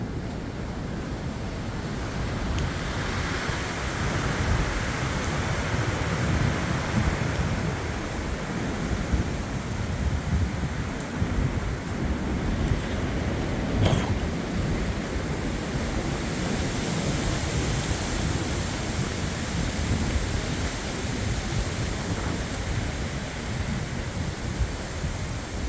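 Strong wind gusts of 70-90 mph in the U.K. give a steady, broad roar with buffeting rumble across the microphone, continuous and loud throughout, with no talking.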